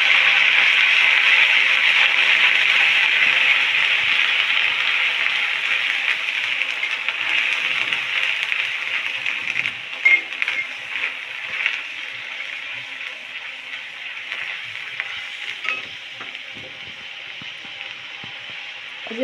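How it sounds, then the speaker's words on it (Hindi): Chopped onions sizzle steadily in a hot pan while cooking a potato sabzi, a continuous bright crackling hiss with scattered pops that eases slightly toward the end. "जब प्याज अच्छे से भुन जाएगी"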